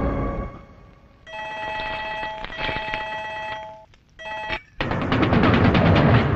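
A telephone bell rings in bursts of a loud, steady electronic trill with short gaps, then gives way to a harsher, noisier stretch with no voices.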